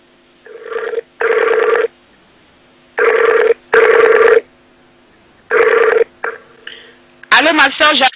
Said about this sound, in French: Je vais appeler le frère en direct.